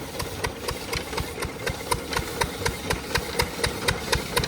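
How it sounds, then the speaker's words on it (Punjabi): A two-wheel Peter diesel engine chugs steadily nearby, its rapid regular knocking beats repeating without pause over a low rumble. "ਆ ਪੀਟਰ ਚੱਲਦਾ"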